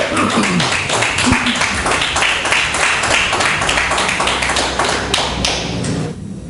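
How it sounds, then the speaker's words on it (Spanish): A church congregation claps loudly and briskly together in a dense, rhythmic burst of applause lasting several seconds, then it cuts off abruptly. "denle un aplauso al Señor. Fuerte, con alegría"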